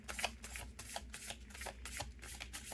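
Tarot cards being shuffled by hand, a quick series of soft riffling, flicking bursts in an uneven rhythm, close and quiet with no talking.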